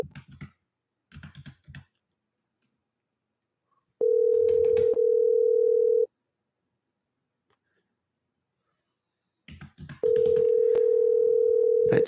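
An outgoing phone call rings unanswered: two long, even ringback tones about six seconds apart, preceded by a few soft clicks, with quiet gaps between.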